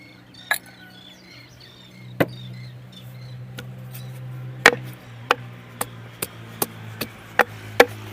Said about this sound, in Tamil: நல்லா இடிச்சு எடுத்துக்கலாம் முப்பது பல்லு பூண்டு கொத்திக்கலாம்